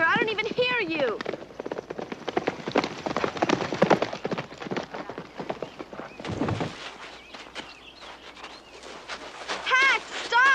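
Horse hooves clip-clop in an uneven rhythm close by, while voices shout and talk over the steps.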